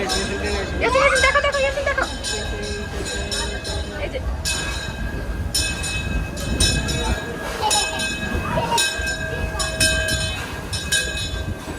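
A Disneyland Paris ride train rumbles and clatters steadily nearby, with a faint sustained horn-like tone, while people talk over the noise throughout.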